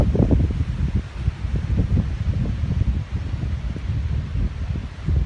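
Steady wind gusts buffet the microphone on a ridge on the Appalachian Trail near the Delaware Water Gap, a continuous low rumbling roar with no voices.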